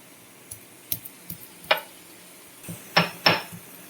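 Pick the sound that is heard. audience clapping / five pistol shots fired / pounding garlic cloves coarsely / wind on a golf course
pounding garlic cloves coarsely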